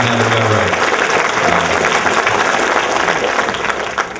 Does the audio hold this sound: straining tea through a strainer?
no